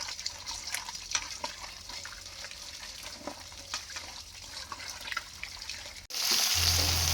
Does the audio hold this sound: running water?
yes